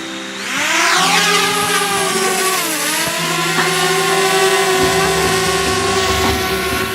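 A camera drone flies close by with a loud, continuous high-pitched whine of its motors, the pitch sweeping up and down as it manoeuvres.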